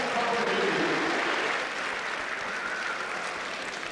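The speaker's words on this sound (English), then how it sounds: "let's hear applause for our sponsors" A boxing-night crowd at the Ulster Hall applauds for the sponsors, a dense, steady roar of clapping that fills the room and eases slightly toward the end, with no voices over it.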